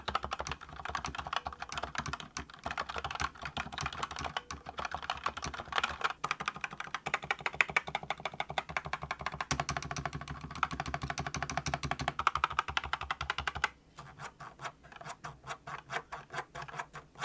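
Fast, continuous typing on a Razer BlackWidow V4 X mechanical keyboard with lubricated stabilizers and internal foam makes dense, close clicky keystrokes for about fourteen seconds, then slows to sparse separate taps.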